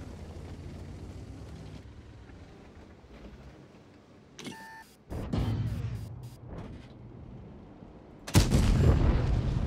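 Tank cannon fire in World of Tanks: engine rumble, a mechanical reload clatter, then a booming shot and later another loud blast with rolling echo.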